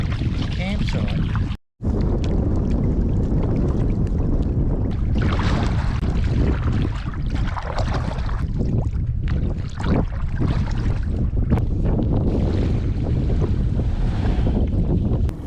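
Kayak paddling along the edge of a shallow bay on a camping trip, heard as continuous close splashing and water wash under steady wind buffeting the microphone, with one brief drop to silence near the start.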